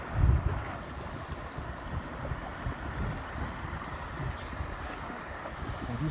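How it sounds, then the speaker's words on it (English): Waterfall in the High Sierra, a steady low broadband rush of flowing water with wind buffeting the microphone, continuous and fairly close, with no talking. "We are standing on top of a waterfall."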